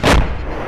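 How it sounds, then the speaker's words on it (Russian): A single RPG launch in ArmA 2 (ACE mod): a sharp, loud boom with a broadband blast that decays into a rumbling tail over under a second, heard alone. "Сметана стреляет с РПГ."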